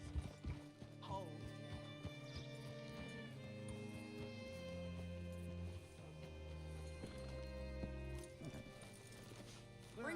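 Horse hooves clip-clop steadily at a hitching spot in Red Dead Redemption 2, set under a low musical score, with steps slowing as the horse settles.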